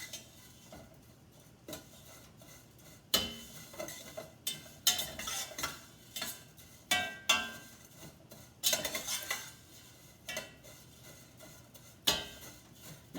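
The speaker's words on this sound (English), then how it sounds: "You want to keep stirring it. And then all of a sudden it'll just brown up for you." Rice pilaf browning in a pan is stirred with a utensil, making repeated scraping and clinking strokes against the pan in an irregular rhythm, close and moderately quiet, with no talking.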